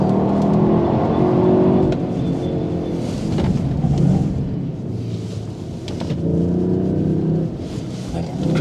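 A 390 hp five-cylinder Cupra Formentor VZ5 accelerating flat out on closed roads, a loud, continuous engine roar with swelling and easing pulls, heard close and without talk.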